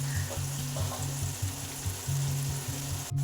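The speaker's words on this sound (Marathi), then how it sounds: "आता कांदा भाजायला वेळ लागेल" Onions sizzle and fry in a pan for a chicken dum biryani, a steady close crackling hiss with a rhythmic stirring pulse underneath and a brief clink near the end.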